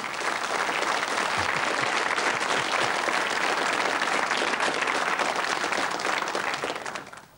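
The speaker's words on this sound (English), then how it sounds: "Give them both a round of applause." A television quiz show studio audience gives a sustained round of applause, dense steady clapping filling the room for several seconds before fading out at the end.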